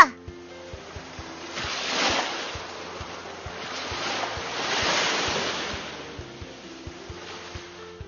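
Ocean waves swell and wash in two broad surges over open sea, with a steady rhythmic putt-putt thumping of a small fishing boat engine running beneath throughout.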